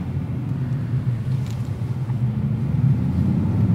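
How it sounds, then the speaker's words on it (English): The 400-horsepower 3-liter twin-turbo V6 of a 2023 Nissan Z gives a steady, low, droning rumble heard from inside the car while cruising, with no talk. "We're powered by a 3-liter turbocharged V6, putting out 400 horsepower, 350 pound-feet of torque"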